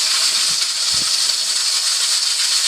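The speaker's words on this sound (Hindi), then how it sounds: "अब आप इसमें से स्टीम को निकलने दें" Steam hisses out of a pressure cooker in one loud, unbroken rush, with a couple of faint low knocks near the start.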